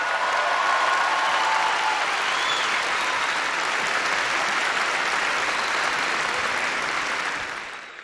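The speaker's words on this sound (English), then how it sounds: "Join me in applauding His Highness Sheikh Mohammed bin Rashid Al Maktoum." Sustained applause from a large graduation ceremony audience in Dubai, dense clapping that stays steady and loud for several seconds before thinning slightly at the end, with no voices over it.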